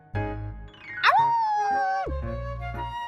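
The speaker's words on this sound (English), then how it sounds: "He's just a regular pet dog." A pet dog in the video game Love and Deepspace gives a sustained, rising-and-falling howl, clear and close, with short yips at either end and no talking.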